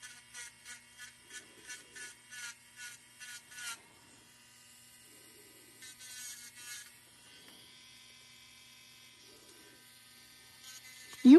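An electric nail drill fitted with a porcelain cuticle bit buzzes in a run of short, rhythmic high-pitched bursts during a full-cover nail job, then in longer, fainter stretches, with soft talking now and then.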